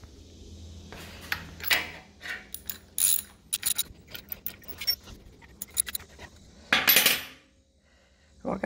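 A ratchet wrench working on transmission crossmember bolts gives quick runs of close metallic clicks in uneven bursts, with brief pauses and clanks between them.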